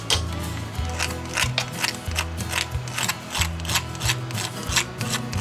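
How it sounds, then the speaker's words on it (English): Sandpaper rubbed by hand over a part of a 55 hp Evinrude outboard motor, giving a series of rasping strokes at a steady rhythm, close and moderately loud, with a low hum running underneath. "Some sandpaper went over it."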